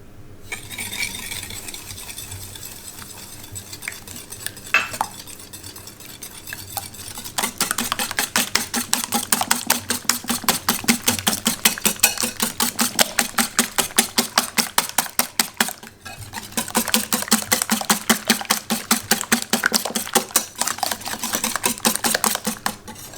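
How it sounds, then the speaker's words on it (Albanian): Eggs are beaten with 100 grams of sugar for shëndetlie, a classic Albanian dessert: a fast, steady, rhythmic whisking that clinks against the bowl, close and continuous, with a brief pause partway through. "I tundim vezët me 100 gram sheqer."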